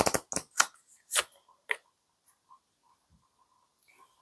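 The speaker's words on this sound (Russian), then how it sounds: "мы сейчас вытащим из этой колоды еще одну карту" Tarot cards being shuffled and a card drawn from the deck, giving a few close, crisp papery swishes and flicks that fade to near silence.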